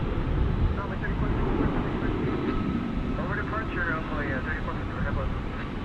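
A Turkish Airlines jet at Dallas Fort Worth International Airport roars steadily nearby as a broad engine rumble, while a person talks over it throughout.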